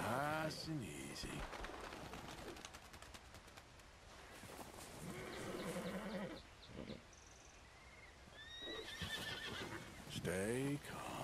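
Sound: white Arabian horse neighing

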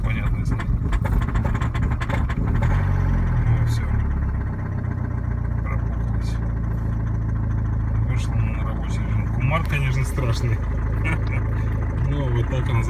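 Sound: diesel car engine hard cold start in frost

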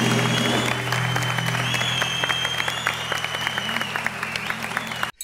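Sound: studio audience applause

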